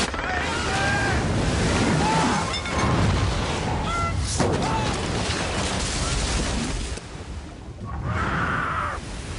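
Indian Ocean tsunami waves surging in a roaring, continuous wash of water with heavy wind buffeting, loud and turbulent, easing briefly before swelling again near the end.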